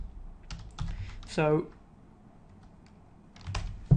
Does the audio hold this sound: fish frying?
no